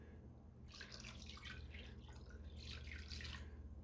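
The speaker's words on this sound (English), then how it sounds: "I'm gonna add some water here," Water poured into a cast iron pan holding chicken quarters for broth, a faint splashing, trickling sound in two bursts over a low background hum.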